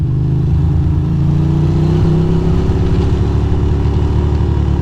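A Ducati motorcycle engine hums loudly and steadily at cruising speed through Brooklyn city streets, with a slight rise in pitch as the rider rolls on the throttle.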